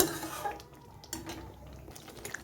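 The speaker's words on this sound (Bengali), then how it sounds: "এবারে আমি আরও কিছুক্ষণ এইভাবে ঢাকা দিয়ে নেড়ে চেড়ে নেব" Kashmiri dum aloo potatoes are stirred in a covered pan, giving soft scraping and clinking of a utensil against the metal with faint wet movement, close and quiet, with no voices.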